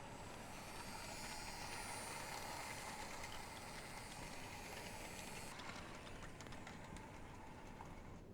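A model train engine rumbles inside a tunnel in the video game Life is Strange 2. The sound is a loud, steady, continuous roar that fills the whole stretch with no voices.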